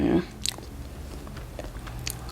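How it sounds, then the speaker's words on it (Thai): Someone bites into and chews Phuang Manee durian up close, with a sharp bite at the start and soft, wet chewing sounds that follow over a faint background hum. "ลองกินกันเลยนะไม่รอแล้ว"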